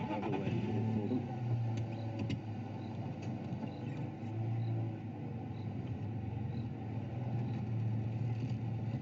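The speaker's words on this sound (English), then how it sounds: "There's another vehicle coming, so I'm just going to move out of the way for them." A safari vehicle's engine rumbles steadily and fairly close in the South African bush, a low continuous drone with slight rises in revving throughout and no talk over it.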